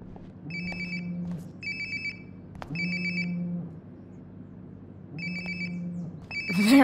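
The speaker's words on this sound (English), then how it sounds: "Sounds like my phone is definitely nearby." A phone rings in the video game Life Is Strange: Before The Storm, sounding in four clear electronic bursts at a steady rhythm over a low ambient hum. A brighter rising tone comes in at the very end.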